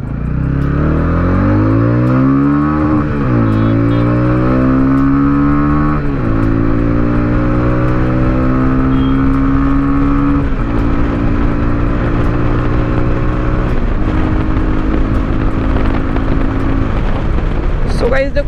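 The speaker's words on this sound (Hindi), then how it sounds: "अभी जितना मैंने बाइक को रेव कराना" Loud, close TVS Ronin 225 motorcycle engine revving hard through rising gears on a highway, pitch climbing and dropping with each shift, continuous roar throughout.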